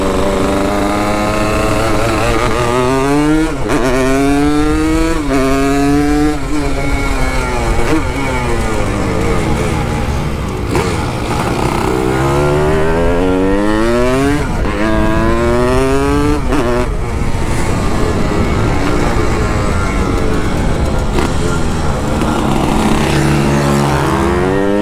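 An RD 135 motorcycle accelerates hard on a street, its two-stroke engine climbing through repeated high-revving sweeps, loud and close throughout, with shifts between gears and no pause in the sound.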